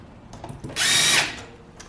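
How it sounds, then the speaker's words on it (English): A power drill briefly whines at high speed, driving a screw through the flange at the end of an overhead cupboard carcass during assembly, a single short burst after some light handling clicks. "I'm just screwing into the end through that flange."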